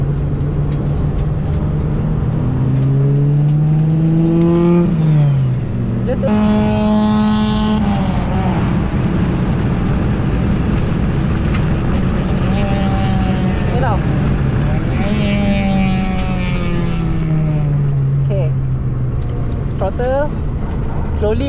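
A Honda Jazz GK on the Sepang race track sounds loud and close from inside, its engine climbing through several rising revs and shifts, dropping back between pulls, with an instructor talking over it.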